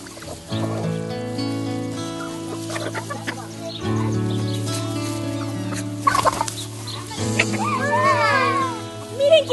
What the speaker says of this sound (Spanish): Era Bella alimentando a las gallinas